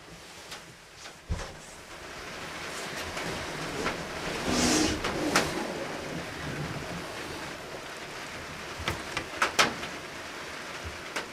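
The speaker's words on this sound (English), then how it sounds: "It's been raining all day today." Steady rain falls outdoors on a Georgia farm, a continuous broadband wash with a few louder drips and splashes; no one talks over it.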